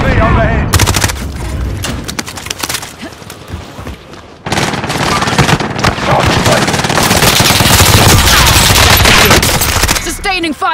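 Dense, loud automatic gunfire from Call of Duty: Warzone on Rebirth Island, with rapid bursts and repeated shots after a brief pause, forming sustained fusillades with sharp cracks throughout.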